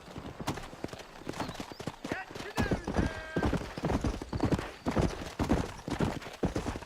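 Horse hooves clip-clop in Red Dead Redemption, a steady, fairly close rhythm of hoof strikes continuing throughout, with a voice briefly audible alongside.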